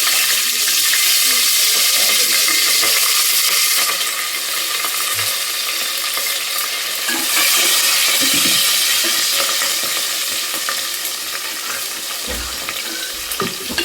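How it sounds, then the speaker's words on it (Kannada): Green chillies frying in a pan give a steady, loud, close hiss of sizzling oil with occasional soft stirring knocks underneath, continuing without talk. "ಫಸ್ಟು ನಾವು ಮೆಣಸಿನ್ಕಾಯಿನ ಫ್ರೈ ಮಾಡ್ಕೊಳ್ಳೋಣ"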